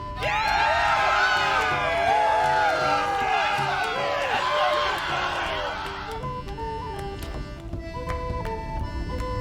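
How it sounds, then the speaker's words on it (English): A crowd cheers and whoops loudly in the video game Borderlands 3, Bounty of Blood DLC, a sustained roar that fades after about six seconds, leaving game music and ambience. "Let's have a cheer for Titus, too!"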